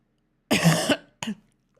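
Two close, dry coughs: a longer harsh one followed by a short second burst after a brief pause, then quiet.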